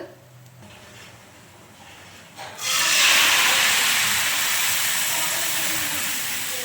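Milk poured onto bread roasted in a hot pan for bread halwa bursts into a loud, steady sizzling hiss that jumps up suddenly and then holds, close and without talk.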